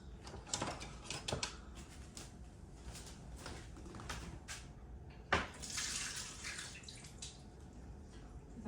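Liquid drained off a jar of maraschino cherries in a home kitchen, a close, uneven trickle and splash of pouring with a brief louder spill midway and no talk.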